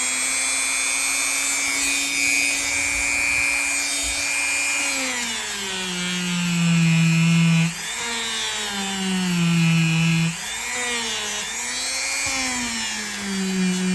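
A power grinding wheel works old knife blades, a loud sustained whine whose pitch dips and recovers repeatedly as the steel is pressed against it.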